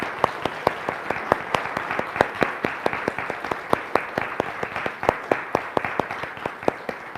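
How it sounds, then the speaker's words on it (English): An audience claps for Lama Tashi at a talk on Tibetan compassion and happiness, a fairly sparse, steady patter of sharp individual claps that carries on evenly and close for several seconds. "Can we just have a round of applause for Lama Tashi"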